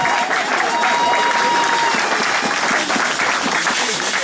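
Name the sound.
church congregation applauding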